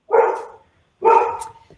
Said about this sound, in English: my dog is really upset at even the mention of this subject